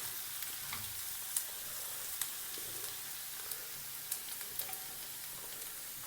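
Onions sizzle and sauté in hot oil in a pan with green chillies, a steady bright crackle broken by a few sharp clicks of stirring, close and fairly soft, with no voices.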